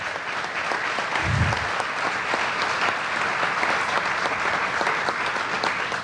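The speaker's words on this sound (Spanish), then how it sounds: "un aplauso para el compañero también" An audience at a youth gathering celebrating Pope Francis applauds Martín Rodríguez, a journalist, writer and poet, with steady, moderately loud clapping that holds evenly for several seconds with no talking.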